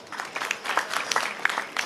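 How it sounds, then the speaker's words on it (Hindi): Audience clapping at a Hindu religious discourse gathering for Bageshwar Dham, a fairly steady patter of many hands at moderate distance, filling the short stretch without voices over it. "जरा ताली बजाओ"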